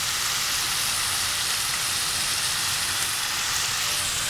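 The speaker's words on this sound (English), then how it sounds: "after we saute our aromatics and we get some sesame oil and Coke into here" Hot oil sizzles steadily in a pan as aromatics such as onions, garlic and jalapeño sauté with sesame oil, a bright, continuous frying hiss with no break for the braised pork dish.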